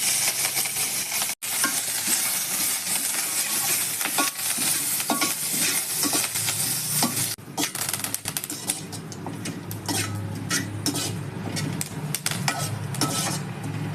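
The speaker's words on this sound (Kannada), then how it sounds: "ಮೊದಲು ಸ್ವಲ್ಪ ಕರಿಬೇವು ಹಾಕ್ಕೋತಾ ಇದ್ದೀನಿ." Curry leaves fry in coconut oil in a pan, giving a loud, steady crackling sizzle throughout with scattered stirring and scraping clicks, no voices.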